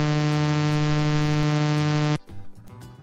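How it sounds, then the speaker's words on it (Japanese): A loud, steady electronic buzzer tone drones with a harsh, harmonic-rich hum for about two seconds, then cuts off abruptly into near silence. "せっかくなのでブザー音を流しますね。"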